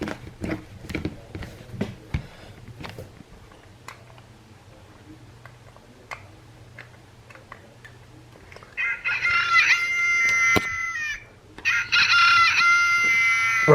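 A Wild Republic plush toy's recorded Delaware Blue chicken call, made of a few soft clucks followed by two loud bursts of rooster crowing. No one talks over the sound.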